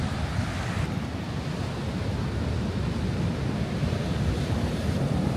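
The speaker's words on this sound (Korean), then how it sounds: "파도가 엄청나" Steady roar of Atlantic Ocean surf crashing continuously on the Portuguese coast, loud and close, with wind buffeting the microphone.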